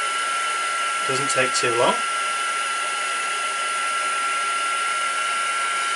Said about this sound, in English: I'm just going to give it a quick blast with a heat tool because I want it totally dry